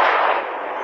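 A single sharp, loud sniper rifle shot from the mobile shooting game Sniper 3D, a brief close blast with a short fading tail.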